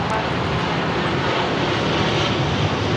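A Boeing 767 heavy jet lands at LAX with a loud, steady broadband engine roar that holds unbroken for the whole span.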